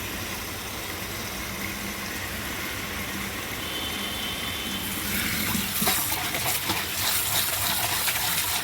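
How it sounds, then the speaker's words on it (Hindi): Tap water runs hard over a clay pot as it is washed. A steady, close hiss of flowing water turns into louder, uneven splashing partway through, with no voices. "सबसे पहले मटके को अच्छे से धो लेते हैं वो वाले नल के नीचे"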